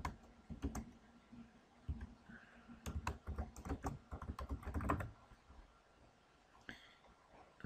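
Computer keyboard keys tapped in bursts while a password is entered during cloud storage admin setup, quick close clicks with short pauses, faint and alone.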